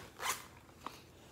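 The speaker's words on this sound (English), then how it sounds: "A zipper pocket." A zipper on a pink crossbody bag pocket gives one quick, quiet zip followed by a faint click of the pull, heard alone and close.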